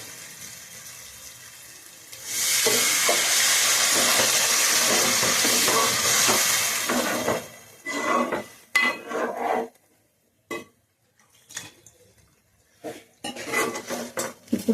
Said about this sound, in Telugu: ఉప్పు కారం వేసాక ఇప్పుడైతే వాటర్ పోస్తాను.